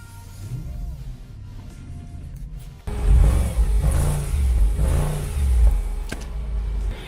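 A high-mileage, dirty Audi S5 with many faults idles with a low rumble, then its engine starts up or is revved hard, and a loud, deep roar follows, swelling and easing in several close revs.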